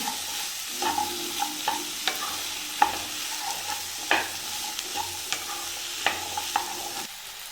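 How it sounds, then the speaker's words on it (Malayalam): Chopped carrots and potatoes are sautéed for a Kerala-style stew, with a gentle continuous sizzle and repeated sharp clicks and scrapes of a spoon against the pan. No one speaks. "രണ്ട് ക്യാരറ്റ് അരിഞ്ഞതും രണ്ട് ഉരുളക്കിഴങ്ങ് അരിഞ്ഞതുകൂടെ ചേർത്ത് കൊടുക്കുകയാണ്"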